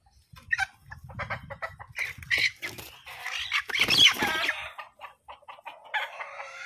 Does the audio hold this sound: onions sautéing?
no